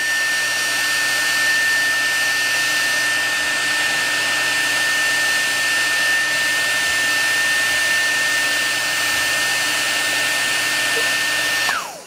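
A hair dryer blows steadily on super glue coating a fly-tying streamer, a loud continuous whir with a fixed tone that holds for about twelve seconds before it is switched off and winds down.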